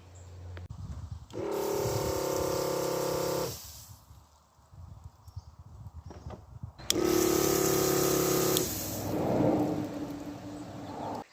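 A 95-litre farm weed sprayer pump with non-drip nozzles runs in a farm yard, coming on in two loud, steady bursts of motor whine and spray hiss separated by quieter gaps.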